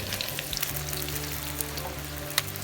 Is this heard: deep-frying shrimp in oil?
yes